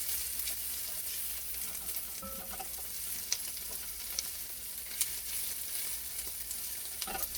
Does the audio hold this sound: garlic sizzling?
yes